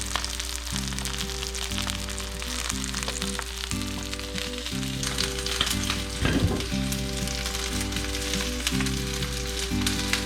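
Salmon chowder ingredients sizzling in a pan while being given a stir, a steady close frying hiss with scraping stir strokes and a low background hum.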